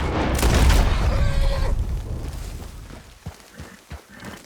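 A single gunshot booms loudly at a rabbit in Red Dead Redemption 2, fading into a rumbling tail, followed by faint hoof clops from horses.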